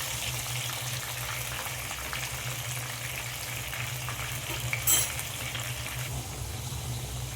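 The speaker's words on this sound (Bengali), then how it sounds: "আলুগুলো আমি লাল লাল করে ভেজে নেব।" Potatoes rubbed with salt and turmeric fry in oil for a chicken biryani, giving a steady, close crackling sizzle throughout, with a brief louder splutter near the end and no talk.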